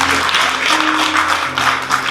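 A church congregation applauds a brother during an Easter service, a steady broad wash of many hands clapping that holds for about two seconds, with a faint sustained tone underneath.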